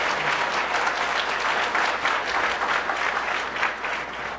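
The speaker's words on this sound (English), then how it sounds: "Big round of applause for Brooks on this one." A room of conference attendees gives a steady round of applause at a community college excellence prize event, dense even clapping that stays loud throughout with no talk over it.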